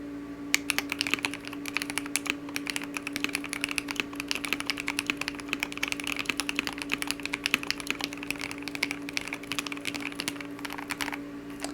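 Fast, continuous typing on a KBD67 Lite mechanical keyboard, a dense run of crisp clacking keystrokes heard close up over about twelve seconds with a low steady hum beneath and no voices.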